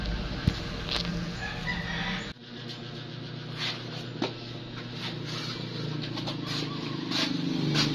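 Fighting roosters and chickens at feeding time, with several crows and clucks over steady farmyard background noise, no talking.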